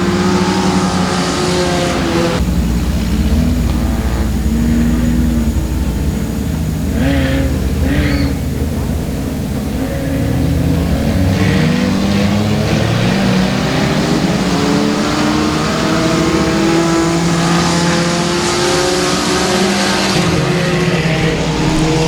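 Front-wheel drive race cars roaring around the Boothill Speedway oval on the opening lap after a restart, loud and continuous, several engines revving and passing close together.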